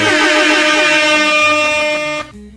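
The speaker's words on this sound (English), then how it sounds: "I'll try to keep the air horns down." Loud sustained air horn blast, a sound effect holding a steady bright blare for about two seconds before cutting off abruptly.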